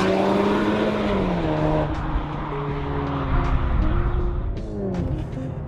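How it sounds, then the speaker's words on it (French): A 300-horsepower SUV engine revs hard at full throttle and accelerates, its pitch climbing through several gear changes, loud and close, with no talking. "On appuie à fond sur l'accélérateur, on l'entend que ça ronronne"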